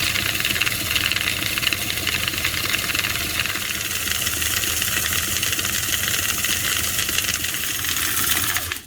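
Rotary tumbler loaded with copper coins and relics, spinning with a constant dense rattling clatter and hiss of metal tumbling, steady and close for several seconds before cutting off at the end.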